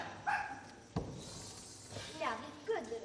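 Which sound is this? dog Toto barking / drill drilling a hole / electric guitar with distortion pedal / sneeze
dog Toto barking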